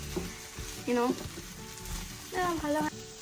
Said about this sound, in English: you can stir it for maybe like 5 minutes. And also it's in low flame, so make sure you stir it properly.